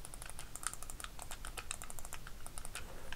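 Rapid, crisp clicks from the face buttons of a Thrustmaster eSwap Pro gamepad, pressed many times in quick irregular succession, close and fairly quiet against a low background hum with no talking.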